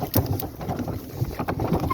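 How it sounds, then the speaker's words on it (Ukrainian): Gusty wind buffets the microphone with low rumbling bursts, dotted with scattered clicks and knocks, outdoors among draft horses. "Трохи вітер в нас."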